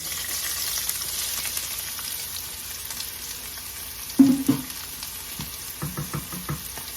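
Onions frying in oil in a pan for jollof rice, a steady crackling sizzle throughout with a few louder stirring clunks and scrapes in the second half, fairly close and without voices.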